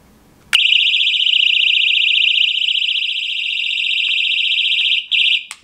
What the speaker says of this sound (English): This personal alarm is supposed to make a very loud sound.